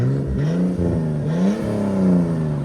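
A 1999 Nissan Skyline R34 2.6L twin-turbo engine revs up and settles back several times, rumbling deep and loud through a straight-pipe exhaust, with a whirring turbo edge and no talking.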